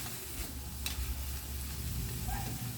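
Chilli garlic shrimp being stirred in a pan: a soft, close sizzle of frying with light scraping stir movements and a brief clink, fairly quiet and with no talking.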